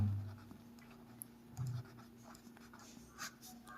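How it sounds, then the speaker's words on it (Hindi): A black pen writing on exam answer-sheet paper, heard as faint, close scratchy strokes in short bursts against quiet room hum. "अब आपको ब्लैक पेन से लिखना है संस्कृत भाग"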